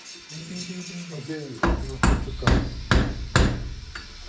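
A small hammer strikes metal five times in a steady rhythm, ringing and close, after a brief muffled voice at the start.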